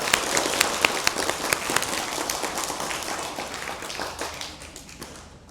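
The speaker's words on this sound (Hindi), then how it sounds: "अपने अपने लिए ताली बजाओ फिर से।" Village children in a rural classroom clapping for themselves, a lively burst of many small hands slapping in quick uneven rhythm that gradually thins and fades.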